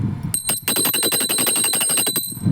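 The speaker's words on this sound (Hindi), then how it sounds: "घंटी बजा लेते हैं।" A small worship bell rung rapidly and continuously for about two seconds during a food offering to a deity, bright and close, with a steady metallic ringing tone.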